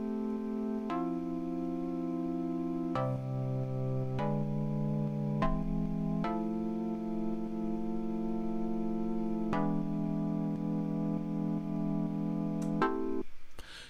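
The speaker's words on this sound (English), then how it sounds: "I add a pad, which sounds like this." A sustained synth pad in Ableton Live plays a slow sequence of held chords, each change marked by a soft onset, steady and full throughout with no other sounds, ending abruptly.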